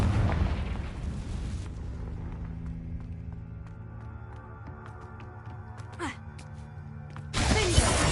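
A Confringo fire spell in Hogwarts Legacy goes off with a loud burst at the start, settles into a faint hum with scattered clicks, and ends with another sudden loud blast.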